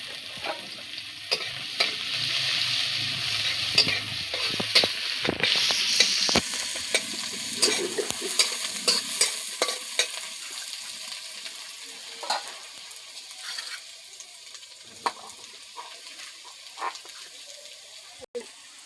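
Spice paste sizzles in a pan for a tilapia fish curry. A busy frying hiss mixes with repeated stirring scrapes and clinks, then eases to a quieter sizzle with scattered taps toward the end.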